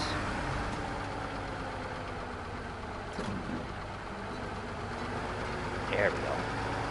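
A truck's smaller engine drones steadily at a low idle-like hum in a night-time driving game, quiet and continuous with a faint knock near the end.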